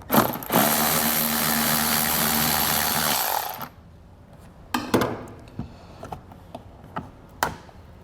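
A power tool with a 10mm socket runs steadily for about three seconds, removing a mud flap bolt on a 2021 Tesla, followed by a few sharp clicks and knocks of fasteners and handling.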